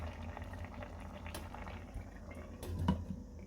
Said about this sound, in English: I'm just gonna go ahead and cover this and allow it to simmer all the way through until the rice is cooked